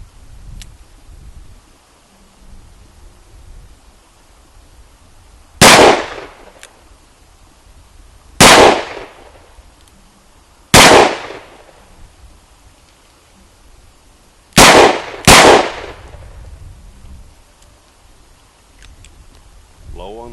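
A Smith & Wesson 686 Plus revolver is fired at a target 12 yards away. Five loud, sharp shots ring out at uneven intervals, and the last two come close together as a quick double tap against quiet outdoor background noise.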